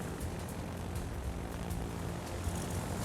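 A squadron of propeller aircraft drones steadily in a naval battle game, a continuous low engine hum holding even and unbroken throughout with no voices.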